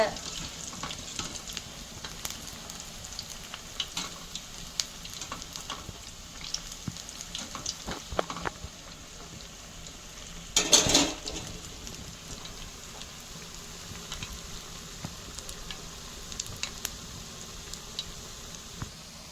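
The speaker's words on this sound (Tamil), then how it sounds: "வடை வெந்திருக்கு. நல்லா முழுவலாக கிறிஸ்பியாக வந்திருக்கு பாருங்க." Urad dal vadas deep-fry in hot oil, giving a steady crackling sizzle with scattered pops and a brief louder burst of bubbling midway, heard alone without talk.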